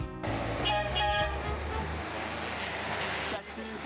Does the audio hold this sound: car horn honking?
yes